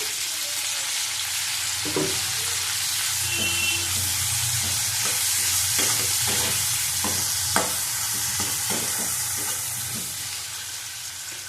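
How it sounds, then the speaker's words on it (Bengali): Prawns sizzle and fry in a hot pan for a sour curry with mango and eggplant, giving a steady loud hiss with occasional stirring clinks and scrapes close by. "দেখো, দিয়ে দেবো চিংড়ি মাছ।"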